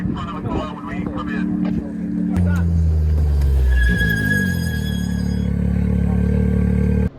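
A UTV race car with failing brakes rolls in, its engine shifting from a rough idle to a louder, rising revving drone, with clattering along the way and someone talking over it.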